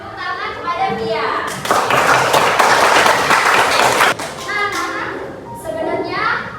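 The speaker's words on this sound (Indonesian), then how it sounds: "Oke, beri tepuk tangan kepada Via." A classroom of students bursts into a few seconds of applause for a classmate, loud and steady, with a teacher and children talking before and after it.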